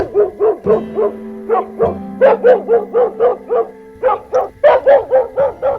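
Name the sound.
dog barking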